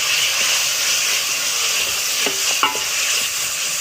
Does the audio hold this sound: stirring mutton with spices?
yes